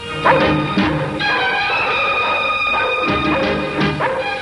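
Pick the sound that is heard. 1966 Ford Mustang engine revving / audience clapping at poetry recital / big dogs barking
big dogs barking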